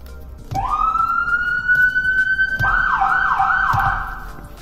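A Whelen HHS3200 horn siren in hands-free mode starts abruptly and sweeps in a loud, steady electronic wail. It shifts into faster rising yelp cycles partway through, with no voices over it.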